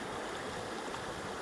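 Cold river water rushes steadily through Siberian wilderness as a dense, even, close broadband roar that holds at constant loudness throughout, with no voices.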